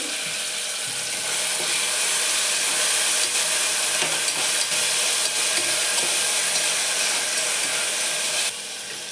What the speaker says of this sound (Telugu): టమోటా కూడా త్వరగా వేగిపోతుంది.